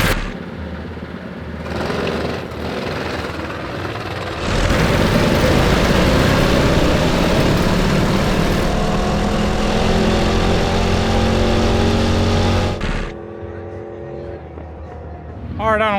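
A three-engine 30 HP mini bike roars down a drag strip, its loud buzzing engines building to a sustained full-throttle howl before cutting off, with people talking nearby.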